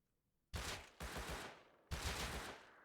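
Three loud, close gunshots ring out in Rust after a near-silent start, each sharp crack followed by a heavy reverberating tail, the second and third coming in quick succession.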